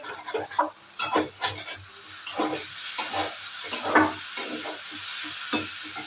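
Vegetarian food fries in a pan during home cooking on the Navami festival day, with close, loud bursts of sizzling and a spatula stirring and scraping in irregular strokes, no talking.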